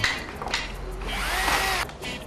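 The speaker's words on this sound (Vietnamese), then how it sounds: "tôi khoan từ trong ra ngoài đâu khoan từ ngoài vô trong" A power drill boring through material during an apartment renovation, heard as a loud, continuous whirring whine with shifting pitch for about two seconds.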